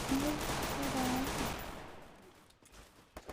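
Dense rapid gunfire from the Free Fire battle-royale game fills the first second and a half as a loud sustained burst, then fades into quieter scattered game noise with a couple of sharp late pops.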